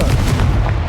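A Confringo blasting spell bursts in Hogwarts Legacy, a loud, dense boom of fiery explosion filling the short moment with low rumble and crackle, with no talk over it.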